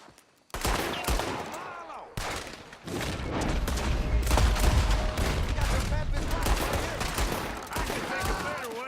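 Rapid gunfire from a Red Dead Redemption 2 shootout, loud dense volleys of shots firing almost continuously, with game voices speaking over the battle.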